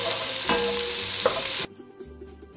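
Beef short rib sautéing in a pan gives a loud, dense sizzle with a couple of stirring scrapes, then abruptly cuts to near quiet after about a second and a half.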